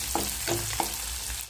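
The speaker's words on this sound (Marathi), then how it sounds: "लसूण टाकून घ्यायचा, हिरवी मिरची आणि कांदा छान तेलामध्ये परतून घ्यायचा" Chopped garlic, green chili and onion sautéing in oil make a close, even sizzle, broken by three soft spoon knocks or stirs against the pan before the sound cuts off.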